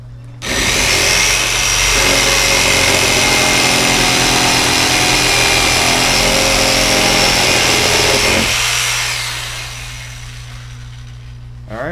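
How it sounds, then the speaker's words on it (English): Power tools cut a viewing window into a fish tank, first drilling out the corners and then jigsawing around the opening: a loud, steady high-pitched motor whine with rasping cutting noise that runs about eight seconds, then fades as the tool winds down. "first drill out the corners so that I don't create a weak spot when I use the jigsaw to go around"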